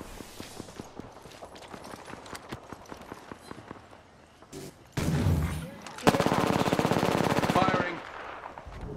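Rapid bursts of automatic gunfire from the Apex Legends video game, near and loud, with scattered single shots first, then dense sustained firing in the last few seconds.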